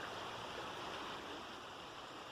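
Steady rushing water flowing continuously through a drainage canal toward a river, a constant broadband wash with no breaks and no voices.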